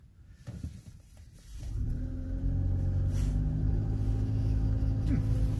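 A car drives over a camelback bridge on Belle Isle in Detroit, its engine and tire rumble rising from quiet into a steady, close low drone.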